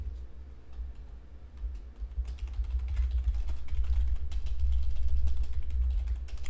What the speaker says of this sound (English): I'm just typing out a message to somebody real quick.